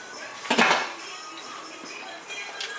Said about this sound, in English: we're going to put the top on so it can kind of like simmer down